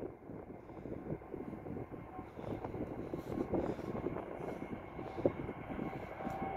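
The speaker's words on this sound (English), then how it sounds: "Oh, this is a late takeoff." Emirates Airbus A380-861 jet on its takeoff run, a steady low rumbling roar of engines that swells gradually, heard from a distance and fairly faint, without talk.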